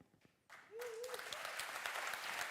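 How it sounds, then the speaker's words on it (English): A crowd at a tech conference bursts into applause, starting after a brief, faint lead-in and building into sustained, dense clapping, with a short vocal sound near the start. "The clapping"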